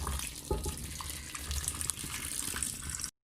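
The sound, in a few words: boiling water being poured into a cooking pot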